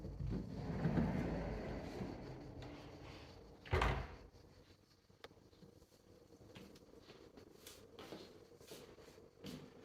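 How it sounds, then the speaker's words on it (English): Pocket doors in a move-in-ready home for sale in an Italian village slide open and shut, a low rumbling glide followed by a sharp bump near the middle, then quieter light knocks in a still room. "Again, pocket doors. Oh, they slide so nicely."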